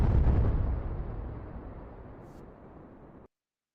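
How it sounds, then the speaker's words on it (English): A single explosion sound effect hits with a heavy low boom and then fades into a long, rumbling decay that lasts about three seconds before stopping abruptly. "My guy deserves an explosion."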